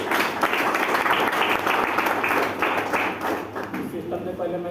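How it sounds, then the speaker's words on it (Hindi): Audience applause for an upline business speaker at a network-marketing meeting, dense clapping holding steady for several seconds before thinning out near the end. "जिनके सम्मान में बरतालियाँ चाहूँगा"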